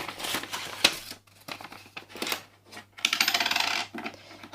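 Coins and paper money are slipped into a small budget envelope, with close clinking, crinkling paper and rustling handling sounds in short bursts, ending in a run of rapid metallic jingles.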